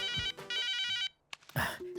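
A phone rings with an electronic ringtone in two bursts of warbling, patterned tones, followed by a brief pause and muffled handling noises.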